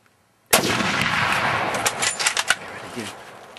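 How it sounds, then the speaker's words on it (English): A loud rifle gunshot rings out during a bull hunt from a blind on the Rio Costilla, the outdoor blast echoing and decaying over a couple of seconds. "Shoot him again. You're shooting high."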